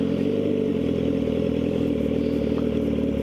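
A motorcycle idles with a low, lumpy engine rumble as the clutch is let out, and the beat sags and slows slightly as the engine starts to die. The sound is steady, close and fairly loud, with no talking.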